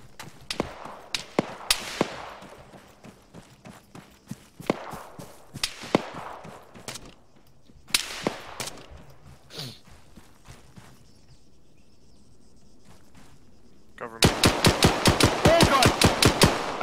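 ARMA 3 combat in Zargabad during a co-op recon mission: scattered single gunshots and short bursts early on, then a rapid, loud sustained burst of automatic fire near the end, with no talk.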